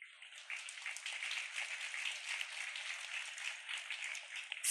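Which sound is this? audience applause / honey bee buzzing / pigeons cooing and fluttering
audience applause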